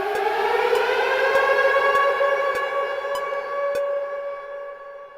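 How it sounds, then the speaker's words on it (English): A steady, wailing siren sample from the FRMS granular synthesizer on an iPad holds and slowly fades, punctuated by a regular ticking click, loud and with no voices. "And then I'll move the siren back in."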